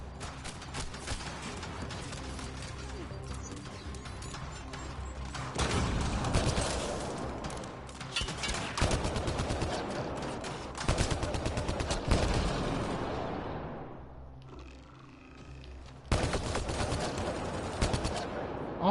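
Gunfire in Mass Effect Andromeda, rapid automatic bursts and sharp shots in dense volleys, loud and close, with short pauses between clusters and no clear talk.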